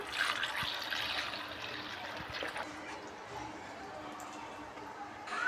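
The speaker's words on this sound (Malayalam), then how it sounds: "ഇനി 1 കപ്പ് വെള്ളം ചേർക്കാം." Water is poured into a pot of chicken curry, giving a soft continuous splashing pour that fades to a quieter trickle, with faint background noise.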